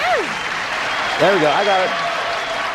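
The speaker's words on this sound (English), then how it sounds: "Start applauding again till I get this squared away." A game show studio audience keeps up steady, dense applause throughout, and a voice speaks over the clapping.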